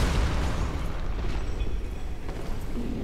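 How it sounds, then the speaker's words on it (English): A continuous, heavy booming rumble of explosions in the video game Dark Souls 3, dense low-end roar sustained for several seconds with no clear gaps. "Ooh, exploding guns."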